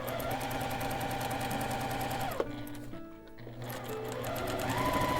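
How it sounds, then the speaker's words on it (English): A sewing machine stitches small hourglass quilt pieces in rapid, even mechanical clatter close by, pausing briefly partway through before the stitching resumes. "And now we'll sew on the other side of that line."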